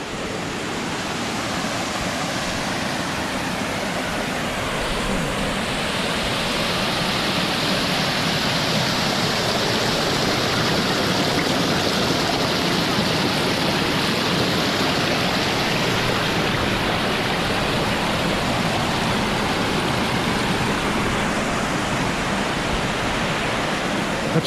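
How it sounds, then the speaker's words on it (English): Fresh natural spring water gushes out of the earth among bluffs near Decorah, Iowa, a constant rushing wash that holds steady and close throughout with no voices. "That's a fresh spring. That's coming right out of the earth."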